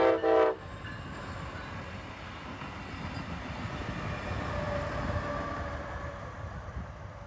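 A Brightline train passes under a high-wide defect detector, opening with a short loud horn blast, then a steady close rumble of wheels and rail noise as the cars roll by.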